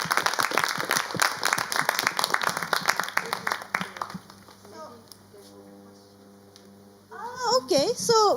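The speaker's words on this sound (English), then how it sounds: "let's give a big applause to all the speakers today." An audience at an academic event applauds its speakers with a burst of brisk clapping that fades out after about four seconds, followed by quieter voices and then a person talking up close.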